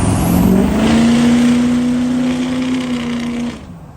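A 700HP reverse-leveled 6.0 Powerstroke diesel truck drives past close and loud, its engine droning with a steady rising tone that holds for about three seconds before cutting off abruptly.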